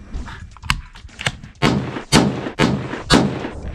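Rifle shots from a Remington 700 or SKS at an outdoor shooting range: a few lighter reports, then four loud, sharp shots spaced about half a second apart, each with a short decaying echo.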